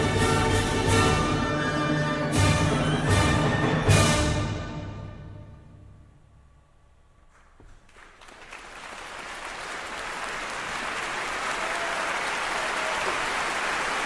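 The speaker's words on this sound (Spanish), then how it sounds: "Ahí vienen los aplausos." Audience applause breaks out at a live orchestral concert just after the music fades to near silence, rising into a broad, sustained wash of clapping that continues steadily to the end.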